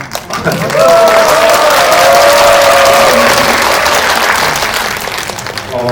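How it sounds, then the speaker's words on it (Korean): Audience applause fills a Korean film talk event, a guest-visit Q&A for the film New Normal, loud and sustained throughout with scattered cheering and a brief whistle-like tone above the crowd. "제가 오늘 태어나서 가장 많은 박수를 받는 것 같아요."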